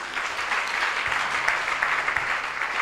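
A church congregation claps at a Sunday service, sustained and fairly loud throughout, with no one speaking over it.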